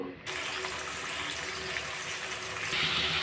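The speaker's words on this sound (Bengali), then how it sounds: "তেল গরম হয়ে গেছে এবার ওল কচুগুলো দিয়ে দেবো" Pieces of elephant foot yam drop into hot oil in a kadai and set off a steady, bright sizzle. It starts abruptly and keeps a constant hiss to the end.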